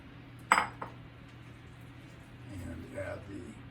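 A spoon stirs sifted flour into hot cream puff dough in a pot, giving two quick metallic clinks followed by a soft, low scraping.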